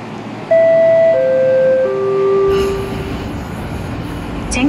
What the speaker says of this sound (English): A 12 car train to Fotan is arriving.